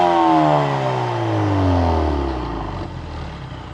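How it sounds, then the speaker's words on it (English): A Ford Focus RS with its factory exhaust revs loudly up close, the engine note sliding downward as the revs fall away over a few seconds. "It's a factory Ford exhaust."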